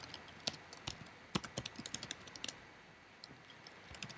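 Typing on a computer keyboard, a close, quiet run of irregular key clicks with brief pauses between bursts, heard alone.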